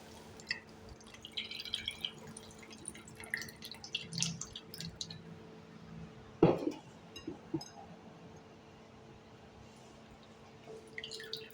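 Tamarind water poured into a pan of frying onions, tomatoes and chillies, giving faint, sparse drips and splashes with a few clinks, quiet and close, with one brief louder splash midway.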